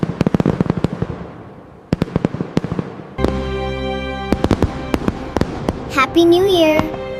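Fireworks bursting at a New Year celebration, a series of sharp cracks and booms, some near and loud, followed by a whistling rocket, with a voice calling out in between.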